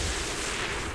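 A gunshot in a shooter video game, a dense broadband blast filling the whole second, loud and close with no talk over it.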